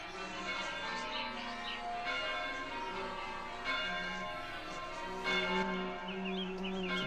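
Bells ring within a dense musical mix in a song, their bright tones sustained over steady instrumental backing throughout.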